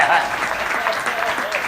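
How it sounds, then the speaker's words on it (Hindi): Audience at a Hindi comic poetry gathering claps on request, a short dense patter of applause in a hall, mixed with a voice speaking over it. "एक बार तालियां हो जाए गुरु"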